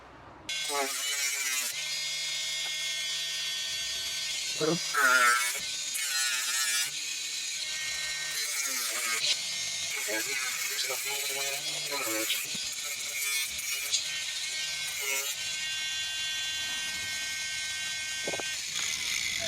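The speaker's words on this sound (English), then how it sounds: "I'm going to swap to a cutting disc" Angle grinder with a thin 2mm cutting disc slicing through car body metal for a rust repair, a loud high-pitched continuous whine that rises and falls as the disc bites, with short pauses between cuts.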